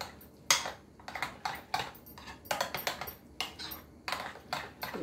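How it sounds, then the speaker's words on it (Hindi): Rapid metal-on-metal clinks and scrapes of a whisk beating a bottle gourd mixture in a pot, coming in short irregular bursts at close range with no voice over them. "और इसको फिर से हम अच्छे से फेंट देते हैं"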